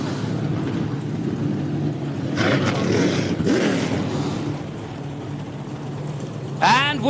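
Trans Am race cars at Lime Rock Park, engines roaring and droning as a field starts and circulates on the hilly circuit, a steady mechanical rumble with louder swells, heard under talk.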